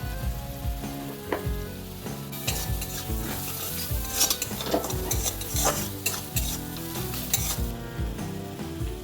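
Ginger, garlic and chilli paste fries in a pan with ground turmeric, chilli and cumin, giving a steady sizzle. It sits under a dense layer of music and scraping stirs, with no talking.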